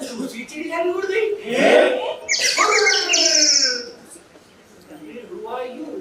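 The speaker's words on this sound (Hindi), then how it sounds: "फिर उसके बाद दूसरी चिड़िया भी उड़ गई।" Bird-like chirping from a stage play, bright trilling calls clustered in the middle as a bird flies off, with actors' voices speaking around and over it.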